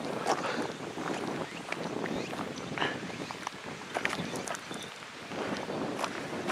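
Wind gusts across a forested mountain trail on the Kumano Kodo pilgrimage route in Japan, a steady close buffeting roar over the microphone with faint scattered clicks and rustles, no speech.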